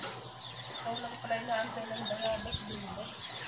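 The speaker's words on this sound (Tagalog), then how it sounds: "Ayan, may mga manok din oh." Chickens cluck faintly in the background of an outdoor scene, soft bird calls mixed with low ambient noise.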